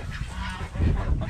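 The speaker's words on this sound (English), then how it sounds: "Just some ducks?" A flock of ducks honking and quacking at close range on a farm, a steady overlapping chatter of calls with no speech.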